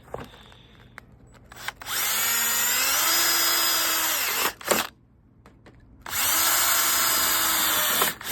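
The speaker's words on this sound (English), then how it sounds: "So now you just go through and drill all the existing holes to transfer the template through." A power drill whines steadily through wood in two long bursts, drilling holes through a template for a nesting box, separated by a short pause with a few clicks and knocks.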